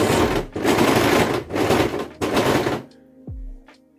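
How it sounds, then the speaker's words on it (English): An overlocker trims excess fabric off a dress in three loud, steady bursts of fast mechanical whirring, then stops, leaving a short fading thump and faint clicks. "It's quite handy if you have an overlocker, because you can just trim off the excess like this."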